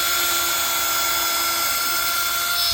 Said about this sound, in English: drill me a pilot hole